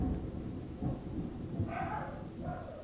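Deep, rolling thunder rumbles through a summer storm, a low and steady growl that swells slightly, with brief higher tonal sounds rising over it near the end.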